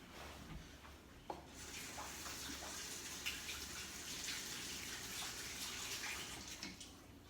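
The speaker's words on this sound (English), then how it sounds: "Let's rinse this off first." Water from a kitchen tap runs steadily over a utensil being rinsed, a soft continuous splashing stream with a few small clinks and knocks, fairly quiet and close.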